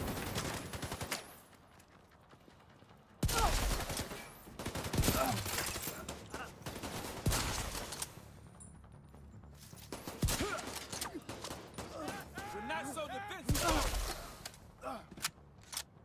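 Gunfire in a shooter video game against reanimated enemies: sharp, loud bursts of rapid shots in several separated volleys, with mechanical clicks and quieter gaps between them.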